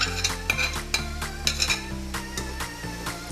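A spoon stirs a pot of tomatoes frying with black pepper, garam masala, salt and turmeric for namkeen gosht, making regular light scraping clinks over steady background music.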